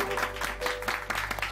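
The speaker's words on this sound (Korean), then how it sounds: "예, 박수." Applause from a Korean church audience with many young people, a short, full wash of clapping under a steady low electrical hum, loud and continuous throughout.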